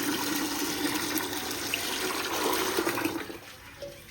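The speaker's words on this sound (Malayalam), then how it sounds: "കുറച്ച് വെള്ളം ചേർക്കണം" Water pours and splashes steadily into plant fertilizer for orchids for a few seconds, then tapers off into a light trickle.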